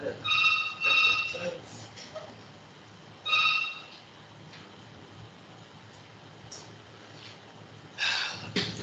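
A telephone rings during a technical lecture on electrolytes for energy storage, sounding as repeated short ringtone bursts spaced several seconds apart, with breathy background noise and faint voice sounds in between.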